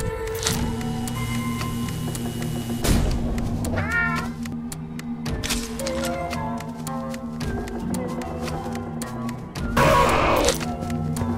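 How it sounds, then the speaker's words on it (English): Meowing from a game-style cat character, a Zoonomaly creature, sounds through a steady mechanical hum and musical drone, with several drawn-out cries and a louder burst near the end. "Cat."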